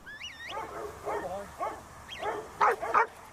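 Sheepdogs at the Sheep World farm north of Auckland give a series of short yips and barks, some whiny, scattered over a few seconds at moderate distance against quiet outdoor background.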